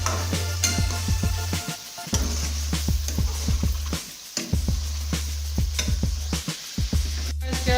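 Whole spices, including star anise, stirred and roasted in a pot for village-style chicken biryani: repeated scraping stir strokes and clatter over a steady low hum and a soft background sizzle, no voices.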